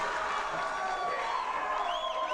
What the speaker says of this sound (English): this crowd, because they're coming alive for that crossbody